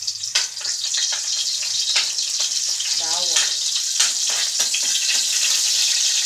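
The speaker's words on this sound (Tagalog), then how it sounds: "Tapos lagay ang mantika, gigisa si bawang at sibuyas. Unang lalagay ay bawang." Garlic sautéing in hot cooking oil for Filipino adobo gives off a steady, close sizzle with sharp crackling pops scattered throughout.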